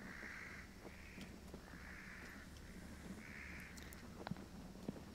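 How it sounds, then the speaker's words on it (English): Crows cawing repeatedly in drawn-out calls with short gaps between them, loud and fairly close outdoors, over steady background noise with a few faint footsteps and knocks. "These crows couldn't be any louder"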